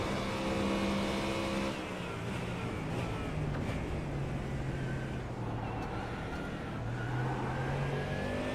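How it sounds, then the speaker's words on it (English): Heard on board a Ford Mustang race car at VIR, the engine drones loudly and pulls through shifting pitch as it brakes and accelerates, a continuous close roar. "You can hear that Mustang just a little bit loose when you start to add some power down."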